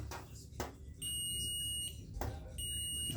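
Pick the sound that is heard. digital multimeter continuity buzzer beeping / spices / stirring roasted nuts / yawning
digital multimeter continuity buzzer beeping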